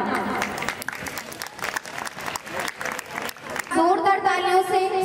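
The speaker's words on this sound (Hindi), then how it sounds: "जोरदार तालियों से स्वागत करिए हमारे पार्टिसिपेंट्स का।" Audience at a women's college fest at Allahabad University bursting into dense, loud clapping that swells and continues, with a voice speaking over it and music starting near the end.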